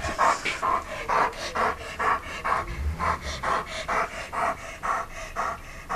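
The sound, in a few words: puppy panting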